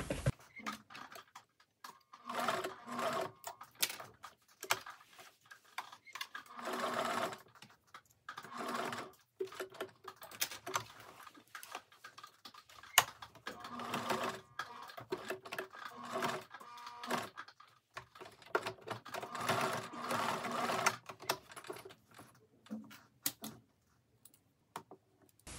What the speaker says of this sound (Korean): 이 단축구멍을 가장자리를 따라서 사방을 모두 박음질을 해서 단축구멍을 고정합니다